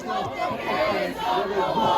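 A protest crowd in Cardiff calling for an end to the wars in Gaza and Sudan, a mass of voices shouting and chattering together at moderate distance, swelling and dipping in waves.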